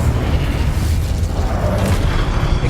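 Incendio fire spell in Hogwarts Legacy, heard as a steady, loud, rumbling boom and roar of flame that fills the whole moment without speech.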